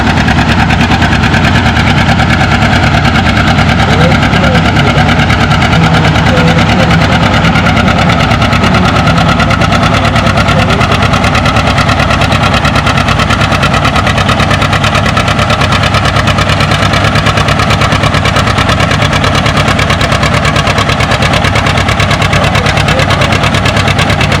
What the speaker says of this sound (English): Robert at the wheel of the John Deere gets down to 168 feet.